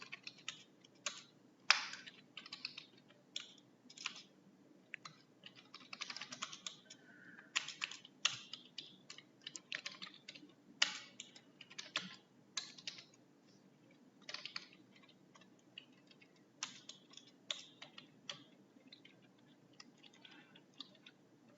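Steady typing of CSS code on a computer keyboard, a long stream of fast, close key clicks in irregular bursts and pauses, fairly soft, with no talking.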